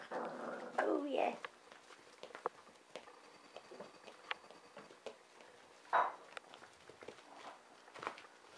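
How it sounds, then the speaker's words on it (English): A puppy plays with a blanket, with scuffling, pattering paws and quick rustles, two louder flurries of thrashing, and a few small sharp knocks, all close by in a quiet room. "There's Winston. What a pretty puppy you are, Winston."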